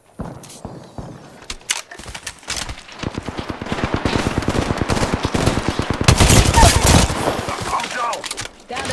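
Sustained automatic gunfire in Apex Legends, fast rapid bursts that build to a loud, dense stream of shots after a few scattered single cracks.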